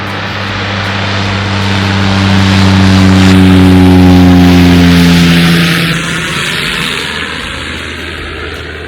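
A propeller airplane takes off near a walking trail in Alaska, its engine drone rising and swelling into a loud, steady roar before fading back as it climbs away, heard alone with no talk.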